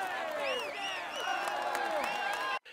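Crowd cheering and clapping with whistles and whoops in a Tour de France 2017 cycling video game, a steady dense roar that cuts off abruptly near the end.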